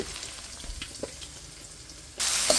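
An egg frying in hot oil with turmeric gives a steady, fairly quiet sizzle with a few soft clicks, then a sudden louder hiss near the end as it is lifted out with a spoon.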